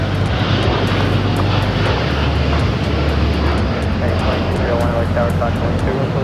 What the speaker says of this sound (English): We have Turkish Airlines Flight 180 taking off to Istanbul on the 787-9 Dreamliner.